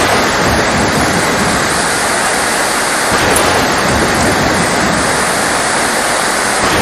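Heavy rain pours down on an island as a dense, loud, unbroken hiss with no pauses, sounding close and all-enveloping.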